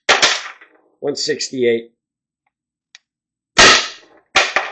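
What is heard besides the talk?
Tippmann TiPX paintball marker firing cheap paintballs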